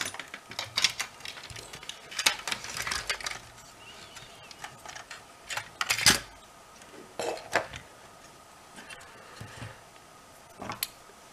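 A PS2 console being flipped over and handled during a repair, with scattered plastic clicks, knocks and rattles at close range, soft and irregular.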